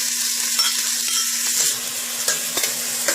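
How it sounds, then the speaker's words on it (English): Onion dropped into hot oil sizzles steadily in a pan, a close, continuous frying hiss with a few light stirring clicks over a short stretch, no voices. "When the oil gets hot, go ahead and add your onion."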